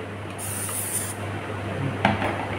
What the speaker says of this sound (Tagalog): Meron naman akong butter spray. So, butter spray lagay ko.